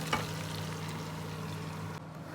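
Onion sizzling in a pan while biryani is cooked at home, a short, steady frying hiss with soft stirring sounds near the start and a low hum beneath.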